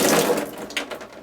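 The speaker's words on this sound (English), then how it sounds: "All that water comes out." Water gushes out of an upside-down jar in a brief, loud splashing pour that quickly tapers off.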